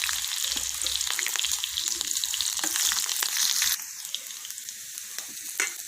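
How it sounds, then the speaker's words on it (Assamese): Garlic hits hot oil with a bright, crackling sizzle, dense at first and then easing slightly after a few seconds, with a few scattered pops near the end. "তেল গৰম হৈ গ'ল, এতিয়া নহৰুখিনি দিছোঁ।"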